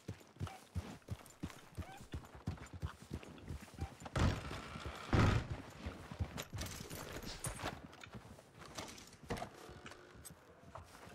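A horse's hooves clip-clop in Red Dead Redemption, in a quick irregular rhythm at moderate level, broken by a couple of louder bursts.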